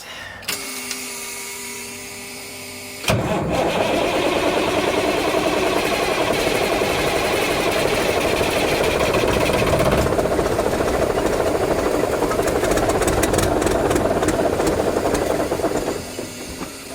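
A 1982 BMW K100 motorcycle engine cranks briefly after a few seconds of quiet, then catches and runs steadily at a loud, close, rough idle, with a faint clatter in the background.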